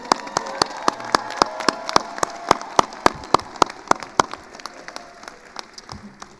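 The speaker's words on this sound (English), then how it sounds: "One more round of applause, everybody." A graduation commencement audience applauds: a broad crowd patter with a loud, close clapper beating a quick, regular rhythm on top, fading toward the end.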